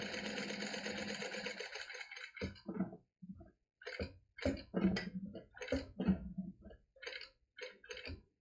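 Sewing machine stitching a fabric card holder slowly, in short bursts of motor whir separated by pauses, close and fairly loud, with faint handling clicks between runs.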